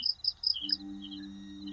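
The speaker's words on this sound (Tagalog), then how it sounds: "Tapos yung tunog ng kuliglig sa labas." A few quick, high cricket chirps in a brief rhythmic burst, then a steady low hum takes over.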